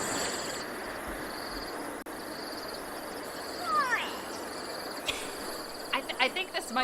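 A grey go-away bird calls outdoors: a few short, nasal sweeping cries at a moderate distance, over a constant hiss of insects, with people talking quietly nearby.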